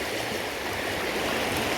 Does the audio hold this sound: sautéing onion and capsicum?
no